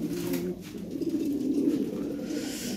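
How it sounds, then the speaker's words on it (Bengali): Toy Lahori pigeons kept for sale coo softly nearby in a low, throaty, rolling murmur that continues throughout with no talk over it. "প্রতিটা খুব ভালো ভালো অরিজিনাল লাহোরি, এগুলো অরিজিনাল টয় বিটের কবুতর।"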